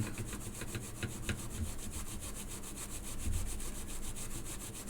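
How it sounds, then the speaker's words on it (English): Quiet, rapid rhythmic rasping of a small sanding tool working against a metal watchmaking part, a jeweled tailstock, steady and close with a faint background hum. "So just get my little sanding device in here"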